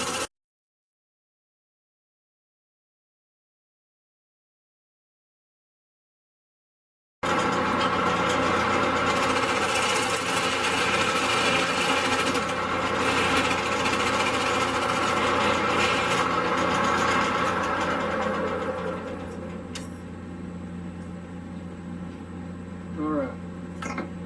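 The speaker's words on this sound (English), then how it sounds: "Keep my lathe nice and slow." A wood lathe spins a 3-inch-diameter table leg blank at about 800 RPM, a steady mid-pitched motor hum with faint cutting noise that starts after several seconds of silence and runs on, easing slightly toward the end.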